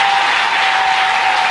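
A church congregation applauding and cheering, a loud dense wash of clapping that fills the whole moment without a break.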